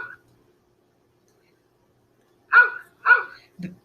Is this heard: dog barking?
yes